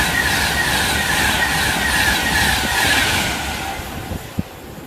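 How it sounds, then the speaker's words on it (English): A Virgin passenger train rushes past at Northallerton station, a loud steady roar of wheels and engine that fades slightly toward the end, with a brief knock near the close. "Oh, got a Virgin train coming."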